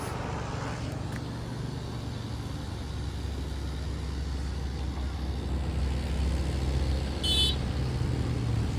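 A car rumbles close by with a steady low engine drone, and a short horn toot sounds near the end over the traffic noise.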